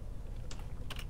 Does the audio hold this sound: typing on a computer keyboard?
yes